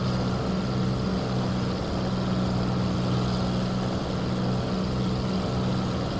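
Hawker Hurricane fighter aeroplane in flight, its piston engine giving a steady, loud, unbroken drone with a low throb and rushing air noise throughout, no voices.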